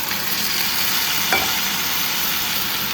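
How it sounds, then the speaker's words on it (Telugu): Chicken pieces hitting hot ginger garlic paste in a pan for a spinach chicken curry, giving a steady broadband sizzle with a brief stirring scrape partway through and no talking. "సో దీంట్లో కడిగి రెడీ చేసి పెట్టుకున్న చికెన్ని యాడ్ చేస్తున్నాను."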